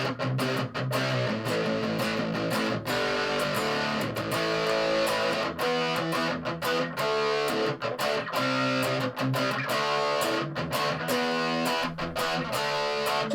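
Electric guitar through a Peavey Rage 158 amp driven by a distortion pedal, loud and saturated, with heavy chugging riffs and sustained chords played alone for several seconds.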